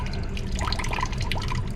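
Water is poured off a gold recovery wash, giving a trickling, dripping, splashing stream with scattered droplet plinks over a low rumble, steady and close throughout.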